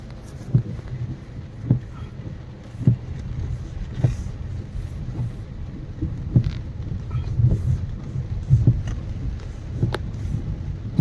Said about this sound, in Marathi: कसं ट्रॅफिक आहे गाड्यांमुळे